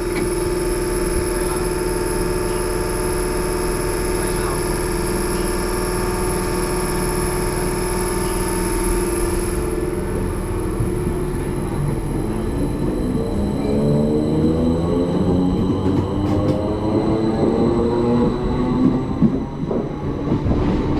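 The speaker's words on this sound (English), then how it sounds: "The train is about to leave, so we'll see it go." A Class 318 electric train rumbles and whines loudly at close range as it departs Wivenhoe station, its engine drone shifting as it pulls away.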